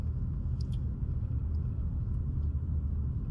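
Steady low rumble of road traffic crawling in a jam, a dense continuous engine and tyre drone with a few faint high clicks, no voices.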